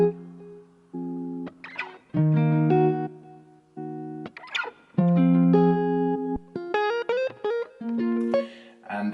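A short chopped electric guitar lick built on a chord progression, its fragments panned left, right and centre across the stereo field. Stop-start bursts of bright plucked notes are separated by brief gaps.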